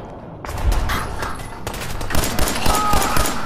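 Gunshots in Fallout 4, a close, loud cluster of rapid shots and impacts, several sharp bangs in quick succession over a steady background of game ambience.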